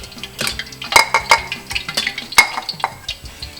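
Cornstarch and all-purpose flour being stirred together in a bowl, with a quick run of sharp utensil clinks and scrapes against the dish, close and fairly loud, and no talking.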